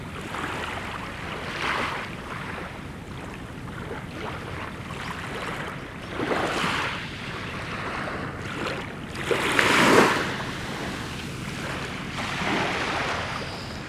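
Small waves wash and break gently along the shore of a sheltered bay at Lhok Keutapang Beach in Aceh Jaya, with soft rolling surges under steady wind buffeting the microphone.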